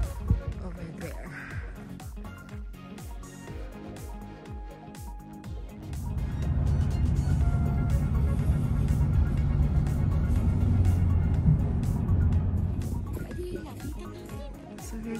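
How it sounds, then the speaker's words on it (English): A car driving along a road near Page, Arizona, heard from inside as a steady engine and road rumble that swells louder midway and holds, with scattered knocks and rattles. "we're going to drive a little bit more"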